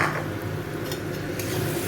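A spoon stirs washed rice into khichuri in a pot, a steady scraping and rustling churn, close and continuous, with soft clinks against the metal.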